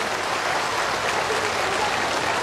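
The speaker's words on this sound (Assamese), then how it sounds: "এজন উষ্ম হাত চাপৰিৰে আমি তেখেতক সাদৰ সম্ভাষণ জ্ঞাপন কৰিব বিচাৰিছোঁ" A crowd applauds the chief minister at an official event in Dibrugarh, Assam, a dense, steady wash of clapping from start to finish.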